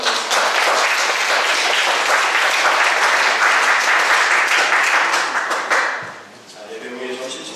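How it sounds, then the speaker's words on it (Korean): A church congregation at a Sunday worship service claps together in sustained, dense applause for several seconds, steady and close before tapering off at the end. "박수로 환영하겠습니다."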